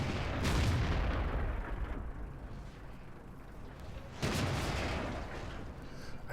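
Tank guns fire at a Black Prince tank's turret in World of Tanks, a heavy boom at the start and another a few seconds later, each decaying into low rumbling battle noise.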